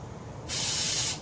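A single steady burst of aerosol spray hissing on a 1995 John Deere STX38 lawn tractor, bright and airy, lasting about half a second and close by, with a faint low rumble underneath.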